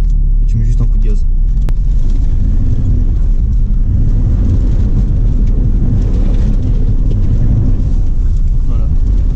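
A swapped BMW E30 roars through drift donuts, its engine a loud, heavy, sustained rumble close by, with people talking over it.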